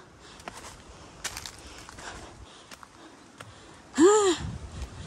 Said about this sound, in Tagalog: Grabing hingal ko.